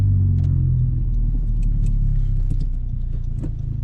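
A 2021 Honda Civic Type R engine fitted with exhaust silencers idles with a low, muffled rumble that holds steady, then eases slightly toward the end, with faint clicks and rattles over it.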